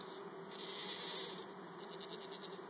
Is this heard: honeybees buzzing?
yes